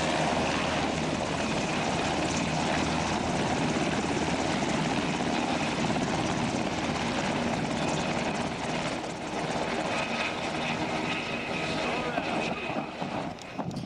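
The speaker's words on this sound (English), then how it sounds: "I thought I just heard a helicopter." A loud Black Hawk helicopter drones steadily overhead on a mountain hike, its thumping rotor noise filling the whole stretch and dipping slightly toward the end.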